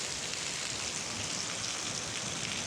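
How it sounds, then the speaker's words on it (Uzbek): Rain pours down from a roof gutter, a steady, soft hiss of falling water that stays even throughout without any voices. "Mana yomg'ir"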